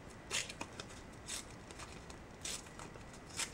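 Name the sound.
tearing off a piece of paper for art journal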